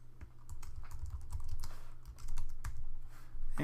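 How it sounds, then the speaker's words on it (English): Typing on a computer keyboard: quick irregular clicks of keys in a brief burst, close and moderately quiet, with no talking. "type in a name"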